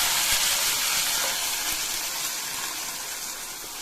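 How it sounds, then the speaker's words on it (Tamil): Ground onion, tomato, ginger and garlic masala paste cooking in oil in a pan, a dense, loud, steady hiss of bubbling and spattering with a few faint knocks underneath. "வெங்காயம் தக்காளி இஞ்சி பூண்டு அரைச்சி ஊற்றின மசாலா நல்லா கொதிச்சுட்டு இருக்குங்க"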